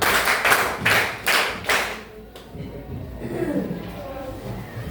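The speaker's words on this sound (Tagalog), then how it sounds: "bigyan natin si Ginoong Leon ng 5 palakpak" A group of people at a teacher training session gives five rhythmic claps in unison, evenly spaced and fairly loud, followed by quieter murmuring and a speaking voice.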